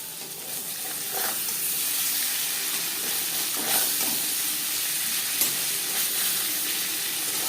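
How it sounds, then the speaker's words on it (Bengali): Paneer cubes fry in a wok with a steady, moderately quiet sizzle and hiss, broken by a few faint stirring clicks, no talking. "পনির আমি ভেজে নিয়েছি, এর থেকে বেশি ভাজবার প্রয়োজন নেই।"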